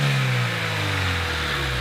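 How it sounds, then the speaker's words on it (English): A Honda engine revs with a cold air intake, giving a steady, loud mid-pitched drone and intake whoosh that dips slightly then holds, close by and with no talking. "The only noise you really heard was the cold air intake"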